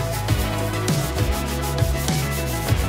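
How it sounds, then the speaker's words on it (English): Dried wood filler on a wooden Kallax storage bench being sanded smooth by hand: a steady rhythmic scratching rub with regular strokes about every half second, close and clear, with no talking. "Once the wood filler has completely dried, I'm just gonna sand it smooth."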